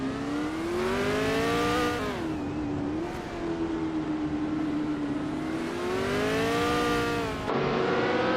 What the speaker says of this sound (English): Hope you're ready to watch some exciting AI car races.